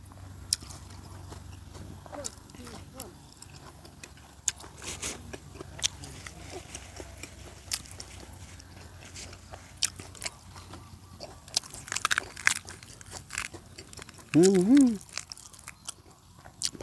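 Crunchy grilled pork large intestine stuffed with egg being chewed up close, with irregular crisp bites and wet munching spread across the clip and a few louder crunches and a vocal sound near the end.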